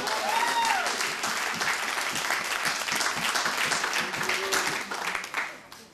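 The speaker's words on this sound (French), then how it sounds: "On peut applaudir le roi des rois." Loud, sustained applause from a crowd, steady clapping that fills the space for several seconds before tapering off at the end.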